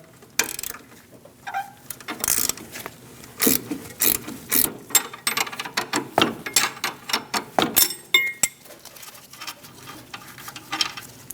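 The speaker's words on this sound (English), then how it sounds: "Using an 18mm wrench, loosen the nut for the sway bar link." A ratcheting wrench loosening an 18mm sway bar link nut on a Scion xB, rapid uneven bursts of clicking pawl sounds, close and fairly loud, quickening toward the end.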